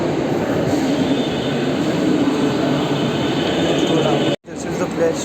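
A train rumbles steadily at a railway station with a loud, continuous roar, then a sudden brief dropout before the noise resumes; a voice talks over it.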